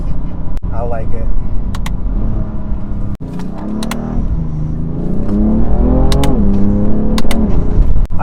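An F80 BMW M3 Competition with DCT accelerates as a deep engine drone rises in pitch through quick gear shifts, loud from inside the cabin, while people talk over it throughout.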